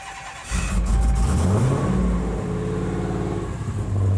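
Engine of a manual Dodge Demon, a Mopar muscle car, starts up and revs loudly close by, rising in pitch and then settling into a throaty, rumbling idle with a swell at the end.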